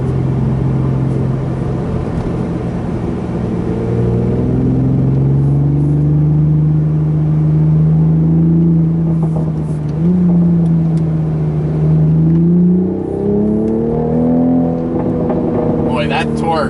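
A 2020 Toyota Supra revs hard as it accelerates out of tight corners, engine note climbing and falling in repeated pulls, loud and close from inside the cabin.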